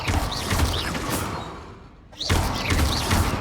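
Spell effects for Accio and Expelliarmus cast during a fight in the video game Hogwarts Legacy: loud, dense magical whooshes and thuds with bright sweeping tones, briefly dipping quiet before a second burst of impacts.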